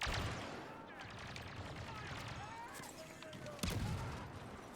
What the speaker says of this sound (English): I don't know if you guys heard that grenade, but you can also hear grenades landing